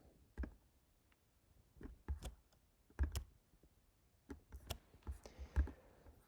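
Keyboard shortcuts tapped on a computer keyboard during document layout work, a quiet scatter of sharp individual clicks in irregular bursts over a near-silent background, with no speech.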